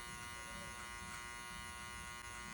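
Up close, a hair trimmer buzzes steadily during a self haircut, a continuous electric drone with slight wavering as the blades move through hair.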